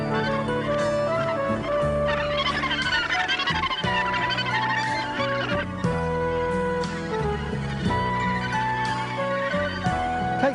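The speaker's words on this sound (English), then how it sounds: "It is the largest mainland colony of Australasian gannets in the world" Australasian gannets at Cape Kidnappers, New Zealand, the largest mainland colony, make a dense, continuous chorus of harsh overlapping cackling calls, loud and close.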